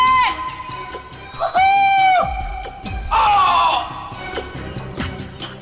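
A man skydiving lets out loud, sustained screams about 15 seconds after jumping, amid rushing wind noise, rising and wavering over a few seconds.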